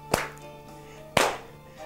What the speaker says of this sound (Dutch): En 1, we gaan klappen.